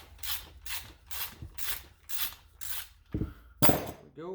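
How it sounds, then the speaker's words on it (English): Wrench and 3/4 inch socket turning out the spark plug on a Husqvarna 440E chainsaw: six evenly spaced rasping ratchet strokes close by, then a couple of sharper metallic clicks and scrapes near the end. "I'm going to go ahead and remove our spark plug"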